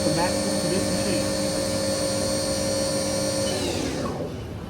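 A 2002 Haas mini mill CNC vertical machining center runs its spindle at 4,000 RPM, a close, steady high whine rich in tonal harmonics that holds for about four seconds, then spins down and fades.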